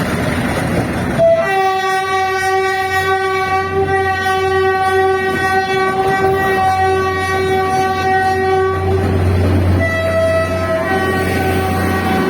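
A Philippine National Railways (PNR) train rolls past on the Tutuban–Alabang line, its loud sustained multi-tone horn blaring for several seconds, breaking briefly and sounding again over a steady rumble of wheels and cars.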